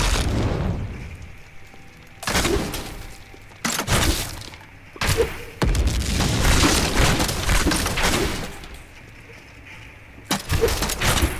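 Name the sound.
explosions in the video game Diablo 3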